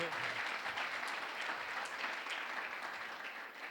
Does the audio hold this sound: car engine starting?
no